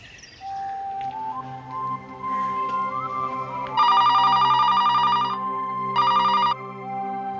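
A telephone rings in a Hindi TV serial scene. A tuneful electronic ringtone builds up and then breaks into two bright, loud bursts of ringing, with no talk over it.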